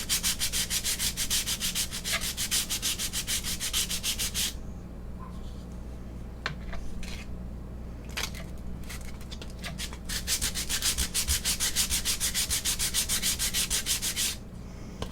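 Hand sanding with 240 grit sandpaper on a faux malachite Easter egg makes rapid, close rhythmic scratching strokes that pause for a few seconds midway, then resume just as briskly.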